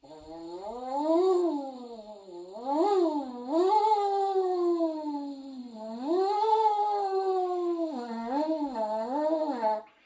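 A buzzy horn tone glides up and down in pitch in repeated swooping waves, loud and close, with short breaks between phrases.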